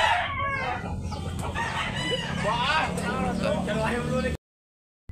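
A bullstag rooster of the Gilmore line on a Cebu gamefowl farm crows close by, the call overlapping steady talk from a man nearby, with other birds clucking in the background before a sudden cutoff.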